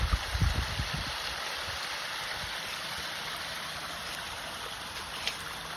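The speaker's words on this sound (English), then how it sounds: "making up the waterfall coming out of the spillway" Waterfall pouring out of a pond spillway, a steady, full broadband rush of falling water that stays close and constant throughout, with a few low splashes and gurgles near the start.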